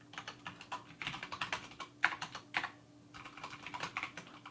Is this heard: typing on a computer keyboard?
yes